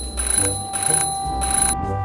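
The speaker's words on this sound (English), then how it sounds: "I'm an alarm clock." An alarm clock rings loudly and close by in three bright, buzzing bursts with short gaps between them, and nothing else can be heard.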